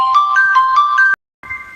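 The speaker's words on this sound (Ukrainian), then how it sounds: "Знову повідомлення телефон розриває" A phone message notification chimes loudly and close by, playing a quick four-note repeating melody, cutting to silence, then starting again briefly.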